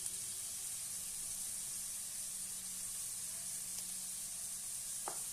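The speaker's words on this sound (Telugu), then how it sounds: "ఇవి కూడా ఎర్రగా బ్రౌన్ కలర్ వచ్చే వరకు వేయించుకోవాలి" Ginger-garlic paste sizzles steadily in a hot pan for a country chicken curry, a continuous frying hiss with a brief scrape of a spoon near the end, no talking.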